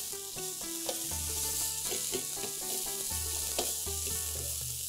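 Capsicum, carrots and shredded cabbage stir frying in a hot pan for Chinese bhel, a steady sizzle heard over quiet background music.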